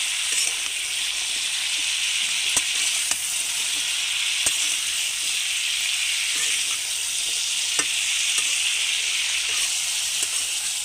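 Vegetables spiced with cumin and turmeric sizzle steadily in a frying pan, a constant bright hiss broken by occasional soft clicks and scrapes of stirring, close and fairly loud with no voices.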